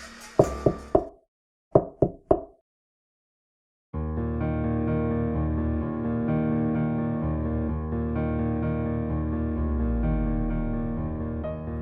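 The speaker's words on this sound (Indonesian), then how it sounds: "bersamaan dengan ketukan pintu dan suara Iwan yang memanggil Nita" Knocking on a door in two quick bursts of three sharp raps each, loud and close, followed by a sustained droning musical tone.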